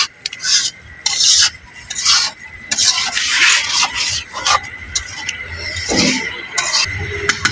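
Liver curry braises in a pot and is stirred with a utensil, giving repeated loud scraping strokes in bursts with a low bubbling sizzle between them.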